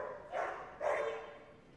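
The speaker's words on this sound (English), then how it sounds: "So we're going to send this dog in for a hold and bark." Two faint, close barks from a police dog doing a hold and bark at a West Midlands police dog display, spaced about half a second apart.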